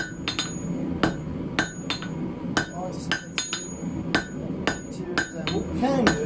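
A blacksmith forging an icicle hammers iron on the horn of an anvil, landing about a dozen sharp, ringing blows at an irregular working rhythm, close and clear.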